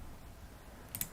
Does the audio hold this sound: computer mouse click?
yes